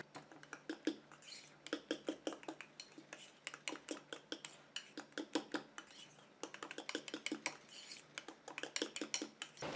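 Metal utensil clinking and scraping against a bowl while a homemade foot cream is stirred, quick irregular taps and scrapes repeating steadily throughout, close and fairly quiet.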